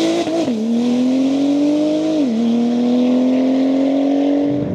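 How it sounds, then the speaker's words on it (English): A tuned 750 HP Porsche 997.2 Turbo with a first-generation PDK gearbox pulls hard under acceleration. The loud, close engine tone climbs steadily, broken by two quick upshifts that briefly drop the pitch, with no talking. "This car's got a tremendous amount of acceleration."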